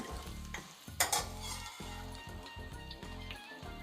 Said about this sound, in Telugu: మనం కోడిగుడ్ని అయితే బాగా వేయించుకోవాలి